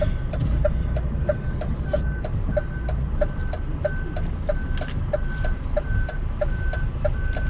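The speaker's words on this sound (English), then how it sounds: "we need a reversing buzzer on" A DAF truck's reversing buzzer beeps in a steady, evenly spaced series of short electronic tones while the diesel engine rumbles underneath during a tight trailer shunt.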